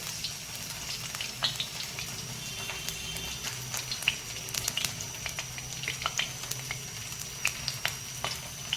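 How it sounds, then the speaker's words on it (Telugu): Fenugreek seeds fry in hot oil with a steady, moderate sizzle and scattered small crackles and pops, close by and without talk. "మెంతులు కొద్దిగా వేగాలి."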